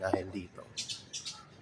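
A bird calls near a Nepenthes pitcher plant in a garden, giving two short, bright chirping bursts close by, just after a brief stretch of spoken words.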